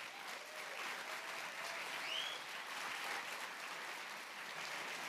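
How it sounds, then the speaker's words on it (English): Audience applause at a startup pitch event, a dense, steady wash of many hands clapping heard from a distance, sustained for several seconds without a break. "big round of applause."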